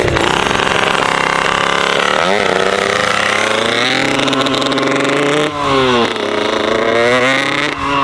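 Homemade motorized BMX bike engine running close by, a loud raspy two-stroke buzz that rises and dips in pitch as the throttle is blipped.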